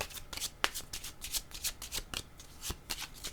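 Tarot cards being shuffled by hand, a rapid series of crisp riffling flutters and soft slaps, close and quiet with no voices.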